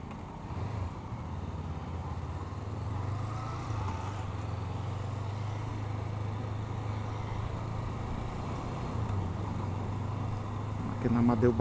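A Honda CB 500X motorcycle rides along Avenida Amadeu Barbosa, its engine a steady low drone mixed with traffic noise throughout, swelling slightly near the end.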